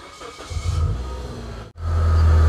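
A 2010 Suzuki SX4 facelift car engine cranks, briefly cuts out, then catches and settles into a loud, steady idle close by.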